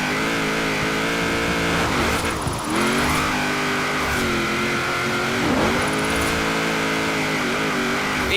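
A drift car in Forza Horizon 4 roars at steady high revs, its engine note dipping and surging through two gear or throttle changes, with faint tyre squeal throughout.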